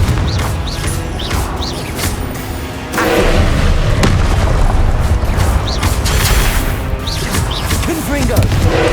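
Confringo blasting spells explode during a Hogwarts Legacy boss fight, a dense run of loud booms and crashes that surges louder partway through, with game effects and shouted spell calls mixed in.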